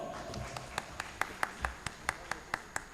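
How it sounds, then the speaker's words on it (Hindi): Sparse, distinct claps ring out in a loose rhythm, a dozen or so sharp slaps rather than full crowd applause, with faint murmuring underneath. "जोरदार तालियां।"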